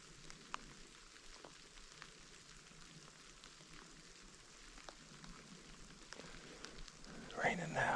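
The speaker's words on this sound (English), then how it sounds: "It's raining now." Rain falls in the woods near a brook during deer hunting season, a soft, steady patter on leaves and ground heard from close by, with a brief louder rustle near the end.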